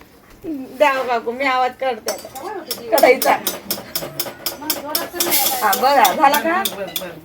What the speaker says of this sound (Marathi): मी आवाज करते आता कढईचा.